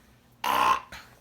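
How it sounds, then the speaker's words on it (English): A baby's single short burp, a brief raspy eructation up close, followed by a faint trailing breath in an otherwise quiet room. "little burp"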